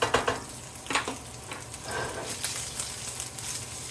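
Sausage meat cooks in a frying pan for biscuits and gravy. A steady close sizzle runs throughout, with a few soft scrapes and taps at the start and no talking.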